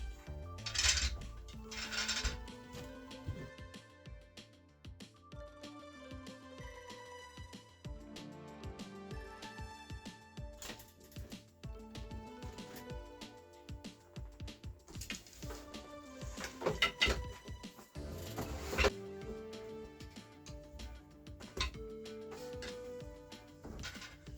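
Weaving on a floor loom while working treadle 3 of a bluebird towel pattern, with wooden clacks, thumps and rubbing of shuttle and beater in an irregular stream, moderately close and without speech.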